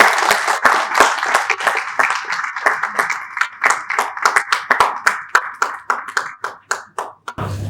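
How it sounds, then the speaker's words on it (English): Conference audience clapping, starting as dense applause, then thinning into separate sharp claps that slow and die away over several seconds before a brief low rumble at the very end. "A round of applause."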